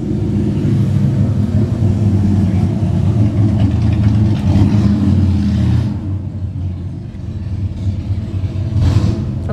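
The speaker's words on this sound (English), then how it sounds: "It's a loud motorcycle, huh?" A loud engine rumbles and idles nearby, steady and throaty, with a brief dip and then a rise as it revs again.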